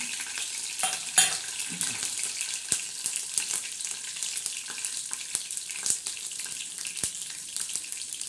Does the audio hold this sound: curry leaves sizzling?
yes